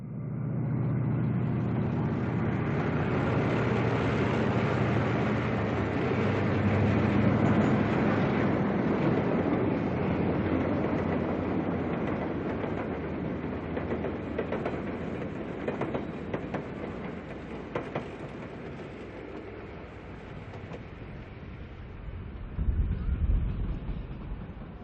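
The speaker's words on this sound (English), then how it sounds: "the Cincinnatian arrives in Toledo with C&O equipment on both the front and" A B&O diesel passenger train, the Cincinnatian, arrives in Toledo with C&O equipment at front and rear, a steady loud rumble of engine and rolling cars with faint clickety-clack that eases slightly toward the end.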